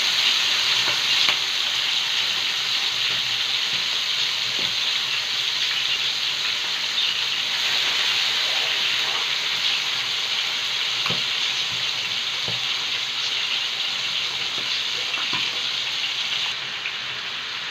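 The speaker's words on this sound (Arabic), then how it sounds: "أهم حاجة تخلي النار عالية. هي هتفرفش شوية كده، بس انتي ابعدي وشك" Chicken drumsticks fry on high heat, giving a steady, dense sizzle with scattered pops and spatters that runs unbroken throughout, close and fairly loud, with no talking.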